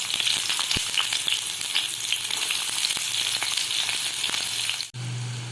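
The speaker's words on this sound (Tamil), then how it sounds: "எல்லாம் நல்லா பொரிஞ்சதுக்கப்புறமா வெங்காயம் போட்டுக்கலாம்." Onions and fennel seeds fry in sesame oil in a pan for a dried anchovy dish, a loud continuous sizzle and crackle that changes abruptly near the end into a deeper, steadier hiss.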